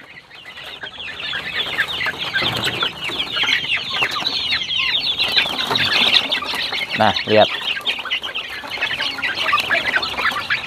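A flock of chickens clucking and chattering steadily while eating feed, busy and close, with a brief spoken voice mixed in.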